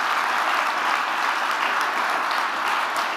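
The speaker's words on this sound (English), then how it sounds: "round of applause." An audience at a university Global Entrepreneurship Week event applauds the speaker after his talk, with steady, dense clapping from many hands at a constant level.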